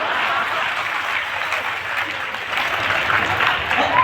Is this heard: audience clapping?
yes